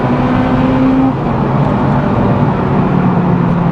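Honda Integra Type R DC5, pre-facelift, heard as a loud, sustained engine drone held at high revs in second gear, steady and close with a slight dip in pitch partway through, no talking.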